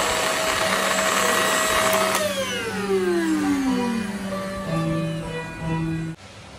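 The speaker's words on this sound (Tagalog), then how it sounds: "hindi lang siya basta vacuum, may UV din siya" A Perrysmith Dustmite Vacuum Xtreme V10 with UV runs steadily and loud up close, its whining motor tone sliding down in pitch partway through before cutting off abruptly near the end.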